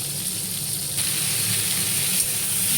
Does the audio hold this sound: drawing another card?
no